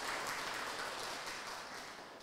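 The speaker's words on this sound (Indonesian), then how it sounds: "Beri tepuk tangan," Faint, distant clapping from a church congregation applauding Sunday school children during a Sunday service, a soft even patter that fades slightly over two seconds.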